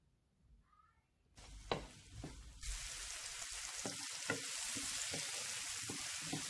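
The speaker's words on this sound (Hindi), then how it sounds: "इन्हें हल्का सा फ्राई कर लेंगे। बस 1 मिनट के बाद ही हमने जो मशरूम लिए थे वो भी ऐड कर देंगे, और 4 से 5 मिनट के लिए इन्हें मिक्स कर लेंगे।" Mushrooms frying and stirred in a pan, starting quiet with a few knocks before a loud steady sizzle takes over, with occasional scraping stir strokes close by and no talking.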